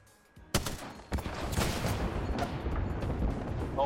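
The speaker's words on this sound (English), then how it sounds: "Is this an artillery strike?" Explosions and heavy gunfire from an artillery strike in the battle royale game Apex Legends, starting with a sudden loud blast, then a second hit and a continuous dense roar of impacts and shots.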